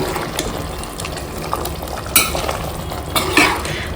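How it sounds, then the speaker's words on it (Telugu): A spoon stirs turmeric, salt and chili into a potato-chickpea curry in a pan, with scraping strokes and sharp clinks against the metal over a light sizzle. "పసుపు, ఉప్పు, కారం వేసుకున్న తర్వాత మనం కొంచెం కలుపుకోవాలి."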